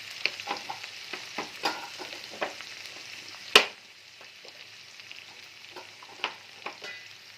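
Cumin powder, turmeric powder and a little sugar fry and sizzle in a wok with ginger-garlic paste for hilsa fish head, a steady close sizzle broken by repeated spatula scrapes and stirs and one sharp metallic clank.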